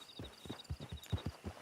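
Horse hooves clip-clop at a steady walking pace in Red Dead Redemption 2, faint and close with a soft repeated thudding rhythm over a high ambient tone.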